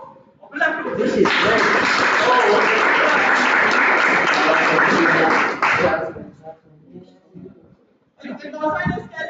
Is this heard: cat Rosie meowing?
no